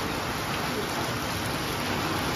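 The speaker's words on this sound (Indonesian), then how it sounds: "Oh, ini hujan hari" Steady rain falls as a dense, even hiss of drops on surfaces, continuous and fairly loud throughout.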